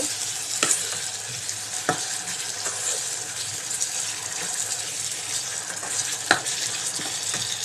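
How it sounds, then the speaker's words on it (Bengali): Chicken biryani cooks in a pan while powdered spice is stirred in. A loud, steady sizzle runs throughout, broken by a few sharp scrapes and knocks of the spoon, with no voices. "তা আমার এখন এই মুহূর্তে লিকুইডটা নাই তাই আমি পাউডারটা দিয়ে দিচ্ছি তো এটা দিয়ে নাড়তে থাকবো"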